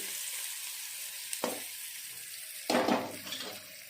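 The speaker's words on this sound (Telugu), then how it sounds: "ఫైనల్గా వచ్చేసి పొట్టిమిరపకాయలు వేసి బాగా వేగిన తర్వాత మనం పోపు చేసుకోవడం" Curry leaves and green chillies tempering in hot oil for a tomato chutney, a quiet steady sizzle. A sharp burst of crackling comes at about one and a half seconds and a louder one near three seconds as things are tipped in and stirred.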